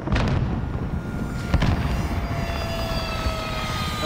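A frag grenade goes off in Call of Duty: Modern Warfare as a loud, booming blast at the start. A rumbling, roaring wash of battle noise follows, with a second heavy thump partway through.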